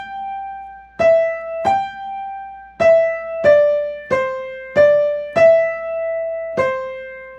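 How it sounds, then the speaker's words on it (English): A simple piano melody of the piece Cuckoo, evenly struck single notes, each played at the same loudness with no phrasing, about eight notes over several seconds. "So if you played cuckoo flat without any phrasing,"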